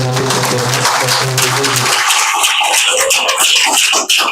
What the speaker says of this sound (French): avec vraiment un tonnet d'applaudissements, j'appelle notre professeur